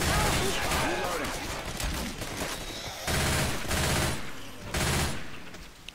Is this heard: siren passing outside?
no